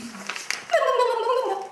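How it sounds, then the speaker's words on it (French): A turkey gobbling, a loud rapid warbling gobble rising and tapering over about a second, heard close after a few faint clucks. "La dinde"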